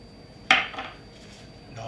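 A single sharp metallic clink of a utensil against a bowl, then brief softer scraping as steak is mixed with a marinade of red pepper flakes and soy sauce; close, short, no talk.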